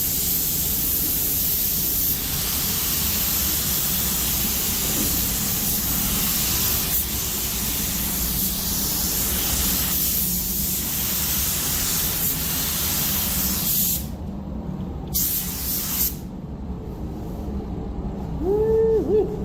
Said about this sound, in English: let y'all watch me spray this